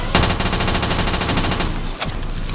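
An automatic pistol in Black Ops 3 fires a rapid, continuous burst of closely spaced shots for about a second and a half, then a single louder shot follows after a brief pause.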